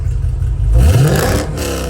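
Modified Mercedes SL55 AMG with an MBH-to-AMG muffler setup and no resonators, its exhaust giving one loud, close, deep rev that swells and then settles.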